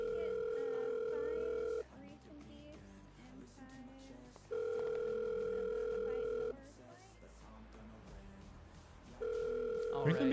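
Telephone dial tone in a roleplay game, a steady electronic tone sounding in three separate stretches with pauses between, with faint background noise and some voices underneath.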